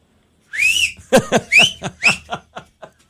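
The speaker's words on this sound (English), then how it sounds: "Put the 2 fingers in my mouth and whistle super loud." A loud two-finger whistle shrills sharply in a rising blast, followed by a run of short bursts of breathy laughter and chuckling.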